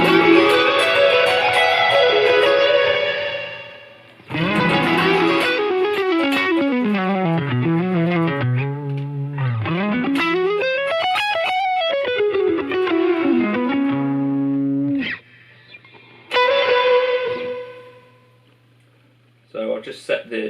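Electric guitar played through a Line 6 Helix with compressor and reverb, heard as sustained distorted chords and sliding melodic lines with long reverb tails, loud and upfront, separated by brief pauses and a closing chord.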